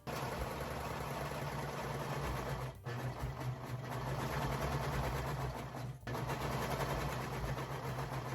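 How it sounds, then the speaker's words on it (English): A serger overlocks the top seams of pinned quilt-jacket sleeves, a steady near motor whir running almost continuously with two brief pauses. "I'm just going to use my serger for the whole process."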